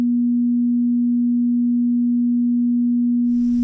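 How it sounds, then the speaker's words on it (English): A steady pure sine tone at 241 Hz holds unchanged in pitch and loudness for over three seconds, alone and clean, with a brief burst of noise at the very end. "Next, the 241 Hz tone."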